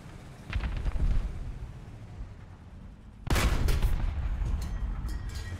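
Tank cannon fire in War Thunder: a distant muffled boom and rumble early on, then a loud, close blast with a long rolling tail and crackling echoes that fade slowly.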